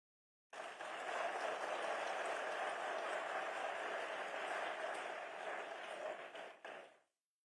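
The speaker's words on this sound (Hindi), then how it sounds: "बच्चों की ताली कुछ बाद में बज रही है।" Children clap at the Adi Gaurav Mahotsav 2025 celebration in Dehradun, a steady, even applause that lasts several seconds and sounds somewhat distant and soft before it fades out.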